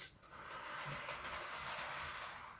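A model railway locomotive runs along its track, making a steady, faint hiss and rumble that holds evenly for a few seconds with no voices.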